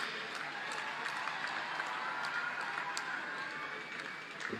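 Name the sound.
audience applause for Olympic medalists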